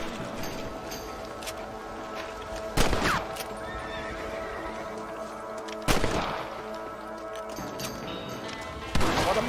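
A horse in the video game Red Dead Redemption, heard in three loud sharp bursts at regular intervals that suggest whinnies or shots, over a constant background of game ambience.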